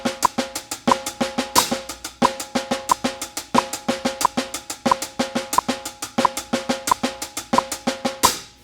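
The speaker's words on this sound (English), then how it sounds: "We'll keep a paradiddle between the hi-hats and the snare drum." A drum kit plays a steady paradiddle groove split between hi-hats and snare, with a crisp, evenly spaced stream of strokes repeating loud and close, no talking.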